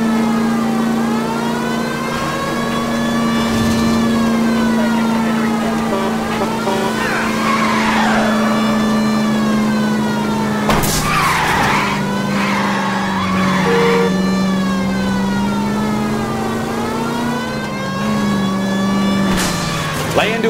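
A stolen green Kaiser Fraser and a pursuing car roar through a chase in L.A. Noire, with loud steady engine drone, revving pitch shifts and repeated tire squeals, while voices talk over the action.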